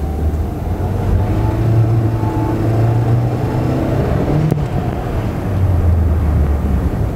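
A 1996 Toyota Corolla Great 1.6 (AE101) pulls in second gear, its engine note a steady loud drone with rising tonal whine under road and cabin noise, heard from inside the car with no talk.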